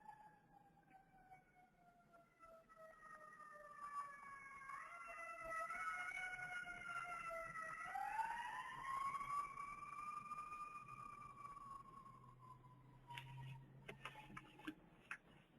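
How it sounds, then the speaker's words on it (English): A faint emergency siren wails from a distance, its pitch sliding and rising as it passes by, with a few light ticks near the end. "If you can hear that siren, someone's in trouble."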